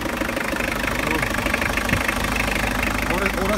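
A Mitsubishi L200 pickup engine idles with a steady, close mechanical rumble and a faint knocking rhythm.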